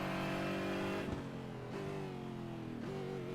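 Aston Martin GT4 race car engine in a racing sim at Spa-Francorchamps, a steady loud rumbling drone with pitch climbing under load, interrupted by two sharp gear-change dips around one and three seconds.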